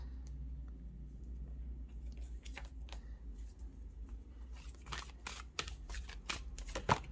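Tarot cards are shuffled in quiet, crisp flicks and riffles that grow busier in the second half, over a low steady background hum. No speech is heard.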